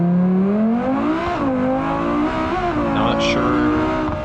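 Simulated car engine in BeamNG.drive revs steadily during a two-lap road-course time trial on a Utah map, its tone rising, dipping and climbing again, loud and continuous throughout.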